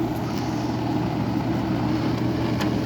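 GE Carry Cool 4k BTU portable air conditioner running with its fan blowing, a steady broadband whoosh over a low compressor hum, close and continuous with no talk.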